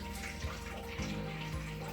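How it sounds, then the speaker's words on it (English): Boiling water from a kettle pouring into a food processor while making an organic black bean stew, a steady close splashing stream with faint clinks. "we get our kettle of boiling water"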